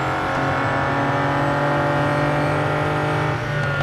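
A race car in the Real Racing 3 mobile game holding a steady high-revving engine drone, loud and continuous as it climbs a hill, with a slight dip near the end.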